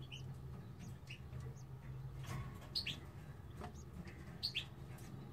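Canary chicks four to five days old chirp in their nest with thin, high peeps in short scattered bursts, faint over a low background hum.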